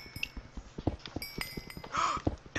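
Donkey hooves clip-clop in Minecraft, a quick run of light, evenly spaced thuds with a brief squeal-like cry near the end, fairly close and moderately loud.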